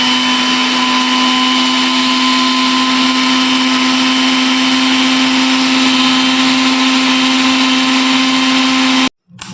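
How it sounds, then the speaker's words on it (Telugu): A mixer grinder whirs loudly and steadily while grinding masala for a garlic chilli brinjal curry, holding one sustained motor drone before cutting off abruptly at the end. "మిక్సీ మొత్తం పట్టేసుకున్నాం కదా మనం"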